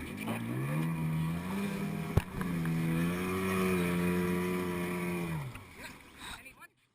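A rescue inflatable boat's outboard motor hums steadily and rises slightly in pitch, holding a strong droning tone before dropping away and cutting out near the end.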